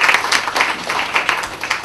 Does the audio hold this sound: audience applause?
yes